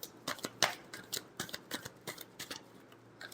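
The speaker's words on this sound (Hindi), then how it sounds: "last shuffle" Tarot cards being shuffled by hand, a quick irregular run of soft riffling snaps and flicks, close and quiet, with no talking.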